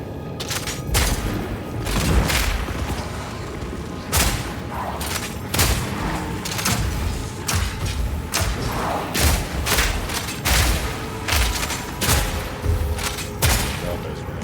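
Rapid grenade explosions from a mercenary in Path of Exile 2, a dense irregular barrage of loud close thuds and booms repeating throughout, with occasional voice under the blasts.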